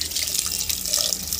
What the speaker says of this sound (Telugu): ఇప్పుడు ఈ ముక్కలు మునిగే వరకు వాటర్ పోసి